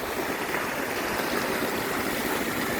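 Irrigation water rushes steadily through a field of organically grown drumstick (moringa) trees, a continuous close, broad gushing with no pauses.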